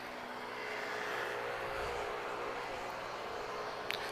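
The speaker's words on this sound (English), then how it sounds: "Azores Airlines arriving now from Terceira" An Azores Airlines Airbus A320neo arriving at Lisbon Airport, a steady broad jet roar heard from a distance, holding level throughout with no voices.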